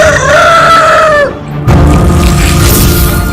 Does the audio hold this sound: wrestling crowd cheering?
no